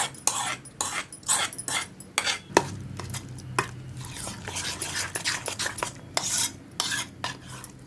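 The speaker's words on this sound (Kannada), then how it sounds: "ಒಗ್ಗರಣೆಗೆ ಸ್ವಲ್ಪ ಇದಕ್ಕೆ ಎಣ್ಣೆ ಜಾಸ್ತಿ ಹಾಕಿ ಸಾಸಿವೆ ಕರಿಬೇವು ಒಗ್ಗರಣೆ ಮಾಡಿ ಇದು ಕಲಿಸ್ಕೋಬೇಕು" A spoon stirs raw mango chutney tempered with plenty of oil, mustard seeds and curry leaves. Repeated scraping strokes and metal clinks against the pan sound close over a faint sizzle.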